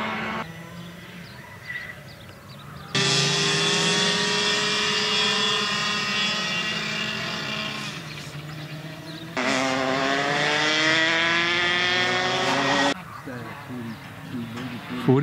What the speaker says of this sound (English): You're flying very steady, Ron.